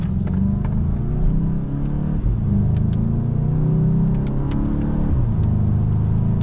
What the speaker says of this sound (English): And it just shifts beautifully. You get some nice noise out of the exhaust.